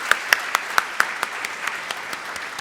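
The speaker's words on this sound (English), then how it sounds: "Let's give another round of applause for that lovely presentation." Audience clapping at a school morning meeting, a burst of hand claps from a gathered crowd that starts strong and quickly thins out, with scattered claps trailing off over a couple of seconds.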